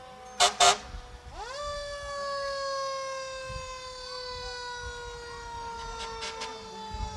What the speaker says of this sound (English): you don't mind hearing the sirens